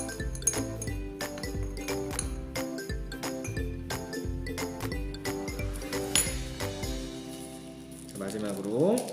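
A glass rod stirs inside a clear glass cup, giving repeated light clinks and taps in an uneven rhythm over a steady, tonal background.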